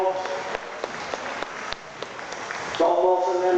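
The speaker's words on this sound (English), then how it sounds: "Give him a round of applause, it's hard work up there." Crowd applause for a sheep shearer at the Royal Highland Show 2014 Scottish National shearing competition, a steady mid-level patter of many hands that runs throughout, with a commentator's amplified voice talking over it.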